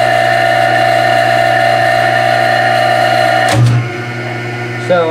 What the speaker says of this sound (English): And I go ahead and start this motor up.